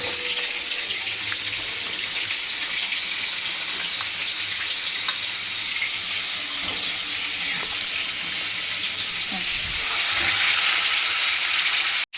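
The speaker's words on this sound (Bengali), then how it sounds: "তো আগে এবার আলুগুলো ভেজে তুলে নেবো, তারপর পটলগুলো ভাজবো।" Potatoes fry in a pan of oil with a loud, steady, close sizzle for the whole stretch, rising somewhat louder near the end before cutting off.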